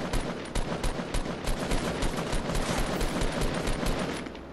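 Rapid gunfire rings out in Fortnite Battle Royale, with dense bursts of shots fired one after another at a steady pace. The shots sound loud and close and are heard alone, with no voices.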